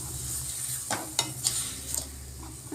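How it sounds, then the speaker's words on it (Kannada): Mustard seeds and onion sizzle softly in tempering oil, a faint close hiss broken by a few sharp crackling pops and stirring scrapes. "ಸಾಸಿವೆ ಕಾಳು ಒಗ್ಗರಣೆ ಹಾಕ್ಬಿಟ್ಟು"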